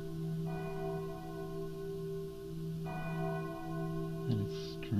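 A bell tolls with long, sustained, resonant ringing tones that overlap and slowly fade, steady and moderately loud with no talking.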